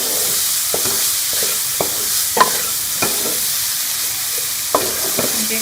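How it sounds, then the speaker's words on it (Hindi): Onions and tomatoes fry in a pan with a steady, even sizzle throughout, broken by a few sharp clicks and scrapes of stirring. "और हम 1 से 2 मिनट के लिए इसे भून लेंगे ताकि हमारे प्याज जो है वो सॉफ्ट हो जाए, टमाटर हल्के से।"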